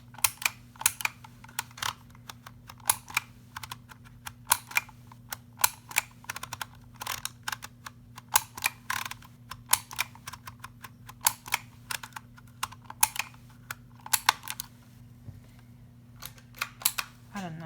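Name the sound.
typing text on a label maker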